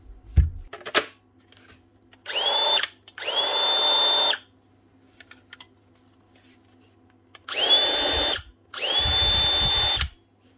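Keyang hammer drill running after a service, four separate loud whining bursts of a few seconds each with short quiet gaps and faint handling clicks between them.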